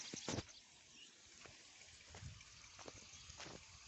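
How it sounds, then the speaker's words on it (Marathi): Water escaping from a burst pipe near farm fields, a faint outdoor trickle and gush with irregular splashy bursts heard from a short distance. "इथं पाईप फुटल्यामुळे कोणाचं तर पाणी जात आहे"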